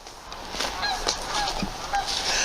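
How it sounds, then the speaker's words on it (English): Several geese honk in scattered, overlapping calls over steady outdoor background noise in Kelowna, fairly close and moderately loud. "Oh, geese!"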